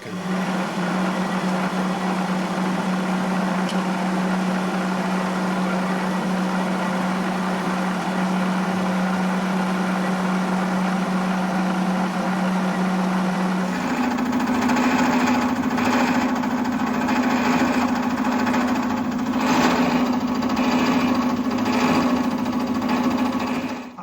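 A lathe toolpost grinder cutting a semicircle into metal gives a steady, loud motor whine that shifts to a higher, harsher pitch partway through as the cut proceeds, close and continuous without speech.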